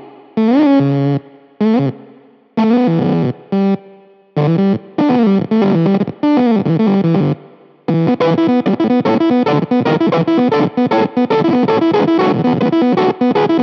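Electric guitar run through a KHDK Scuzz Box fuzz pedal, played in loud distorted chords and riffs with short pauses between phrases, then a sustained gritty, saturated stretch of strumming.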